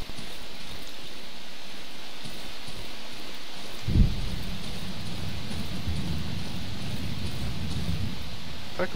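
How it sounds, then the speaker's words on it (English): Rain in the survival horror video game Darkwood, a constant quiet hiss with a low thud near the middle and a rumbling bed that follows. "The fact that it's raining makes it even harder to see than usual."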